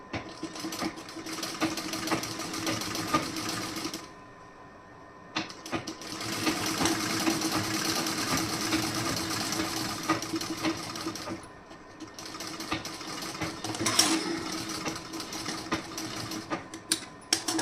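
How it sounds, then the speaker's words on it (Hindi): An electric sewing machine stitches a blouse in fast, rattling runs, stopping briefly twice before starting again, loud and close with no talking. "इस पर आप पक्की सिलाई कीजिए इस तरीके से।"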